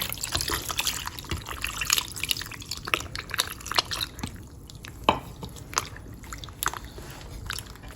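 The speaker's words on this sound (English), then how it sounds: "Then we'll go ahead and add some water." Water is poured into millet dough, dripping and trickling in a series of small irregular splashes and patters, close by with no talking.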